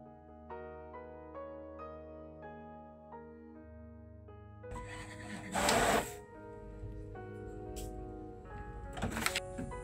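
An HP Smart Tank 519 inkjet printer whirs through tonal motor steps, then the paper feed and print carriage kick in with louder rushing, clattering bursts. Its mechanism runs close by with no one talking.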